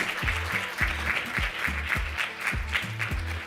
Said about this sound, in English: can you give yourselves a round of applause, ladies?